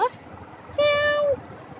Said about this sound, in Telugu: అలా చూడు, ఒక పిల్లి వచ్చింది.